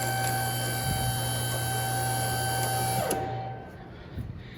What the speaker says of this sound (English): so now we're gonna raise it a little bit more